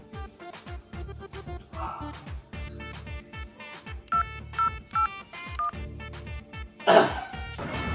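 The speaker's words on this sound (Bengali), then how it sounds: "এবার মেজো জামাইকে ফোন করো।" A phone number is dialed on a telephone: a short run of distinct keypad tones with brief gaps between them, set against low background sounds.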